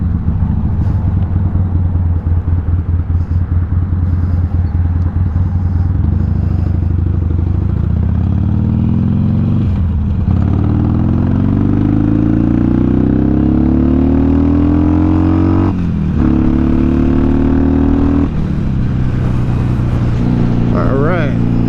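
A motorcycle roars along a freeway at 60 to 65 mph, captured on a GoPro Hero 7 helmet mic. Heavy, constant wind buffeting blends with the engine drone, and the pitch rises and shifts as the bike speeds up.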